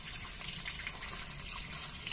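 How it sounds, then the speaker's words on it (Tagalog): Water pours steadily into a cooking pot holding lemongrass, onion leaves and cracked pepper for pork adobo, a continuous close splashing rush with no talk. "Lalagay tayo ng tubig."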